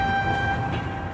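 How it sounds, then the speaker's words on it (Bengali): A train pulls into a station with a loud, sustained rumble and a steady tonal whine or horn-like drone throughout the brief moment, with no voices. "ট্রেন স্টেশনে এসে থামল।"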